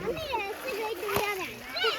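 Children splash and play in water at Amirthi falls near Vellore, with continuous splashing under the lively chatter of kids' voices close by.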